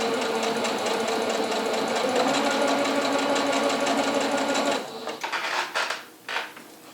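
A sewing machine stitches a quilt with a loud, steady mechanical whir for about five seconds, then slows and stutters into uneven bursts and knocks as the thread starts to fail.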